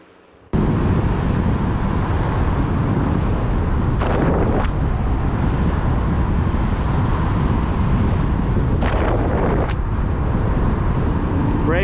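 Varla Eagle One Pro electric scooter pulling away on both motors, a loud steady broadband rush with heavy wind buffeting on the microphone starting abruptly and continuing throughout, with brief surges around the middle and near the end.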